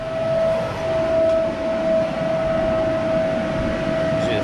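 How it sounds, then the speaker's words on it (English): A steady fan roars inside a paint booth in a Kitfox 7 aircraft build shop, a constant broadband rush with a fixed whining tone held throughout, loud and unbroken with no talk. "Sorry about the fan noise."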